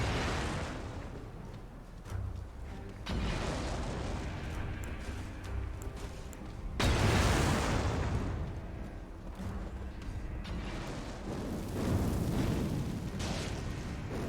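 Fire being thrown in Elden Ring erupts in repeated roaring, explosive whooshes, with loud bursts at intervals over a steady crackling rumble and no voices.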